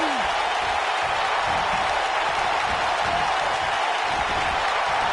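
A wrestling arena crowd in a PS4 wrestling video game set in Minneapolis keeps up a loud, continuous roar of cheering and applause, a dense wash of noise with no break across the few seconds.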